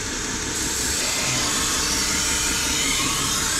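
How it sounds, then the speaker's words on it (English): Belt sander grinding a wooden-handled Victorinox chef's knife, a loud steady abrasive hiss and whir that runs continuously with no talk. "I'm trying to stick to that line on the belt sander."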